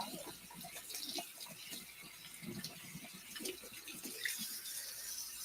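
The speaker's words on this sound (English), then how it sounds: "I like to wash off all the pesticides and gunk, debris, whatever's on your apples, get it off." Tap water running into a sink while apples are washed, a soft, steady trickle with faint splashing and handling noises at a low level.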